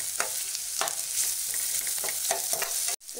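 Capsicum with crushed garlic and ginger sautés in a pan for shakshuka, a steady close sizzle broken by repeated scraping stirs of a spoon, no voices.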